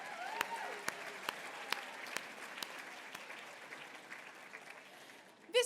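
Faint, sparse applause at a women entrepreneurs' annual gala award celebration, a few scattered claps from a large banquet audience fading over a quiet room.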